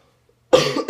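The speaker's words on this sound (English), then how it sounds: "I'm still coughing, so be aware." One sharp, loud cough comes close to the microphone after a moment of near silence, with a second short hack right behind it.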